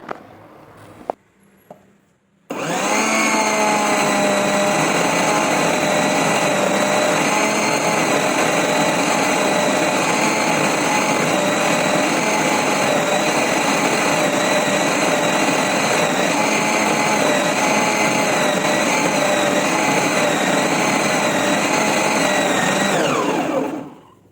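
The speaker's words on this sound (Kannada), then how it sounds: "ಈಗ ನೋಡಿ ನನ್ನ ಮಿಕ್ಸಿ ಜಾರ್ ಯಾವ ರೀತಿ ಕೆಲಸ ಮಾಡ್ತತಿ ಅಂತ" After a short quiet start, a mixer grinder whirs loudly and steadily for about twenty seconds, then stops abruptly.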